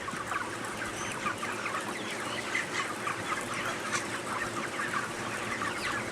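Many chickens in a large poultry farm shed, a constant low murmur of overlapping clucks and chatter at a steady, fairly faint level with no voices.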